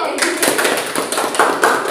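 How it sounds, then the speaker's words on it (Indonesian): Schoolchildren in a classroom clap together in a quick burst of uneven, close hand claps, with a few louder peaks and a voice speaking over them. "tepuk tangan dulu"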